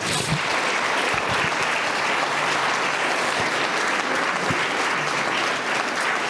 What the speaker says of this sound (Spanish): De un aplauso al Eterno.